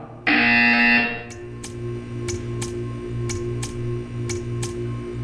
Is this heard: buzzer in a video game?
yes